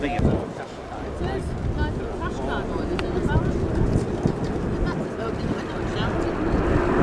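A USAF Bell Boeing CV-22B Osprey tiltrotor in flight during a flight demonstration gives a continuous low, rumbling engine and rotor drone mixed with wind buffeting, while someone talks steadily over it.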